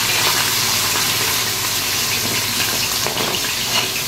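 Chopped onions hit hot oil in a frying pan while vegetable rice is being cooked, giving a loud, steady sizzle and hiss that holds without a break.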